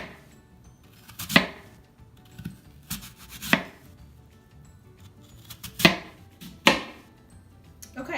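A knife chops through apples for vegan apple crisp on a cutting board, giving four crisp, separated thunks at uneven intervals against a quiet room background, close and clear with no talking.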